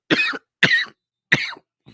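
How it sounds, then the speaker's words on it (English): Three short, harsh coughs from one person who is feeling unwell, close and loud, spaced about half a second apart, with the start of a fourth at the end. "When I laugh, it makes me cough."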